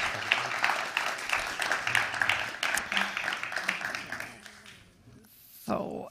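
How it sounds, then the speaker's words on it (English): A conference audience claps for departing speakers, a moderate patter of applause that fades out after about four seconds, followed by a short silence and a voice starting to talk. "Little applause."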